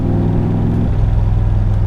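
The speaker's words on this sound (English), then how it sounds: "It honestly feels like a massive V8 powered go-kart" 1965 Shelby Cobra with its V8 engine driving, a loud, deep, continuous engine rumble heard up close, with the pitch shifting slightly partway through.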